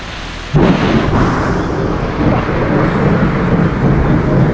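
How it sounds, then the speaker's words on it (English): Steady, loud roar of heavy rain with a deep rumble of thunder rolling underneath, continuous throughout after a quieter opening moment. "many afternoons would finish with an impressive thunderstorm, with the rain bringing out the poison arrow frogs"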